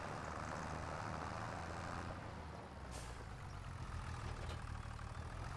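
Tractor engine running in the farming game Farming Simulator 25, a low steady drone with a rumbling idle and a brief hiss partway through, moderately quiet and unbroken.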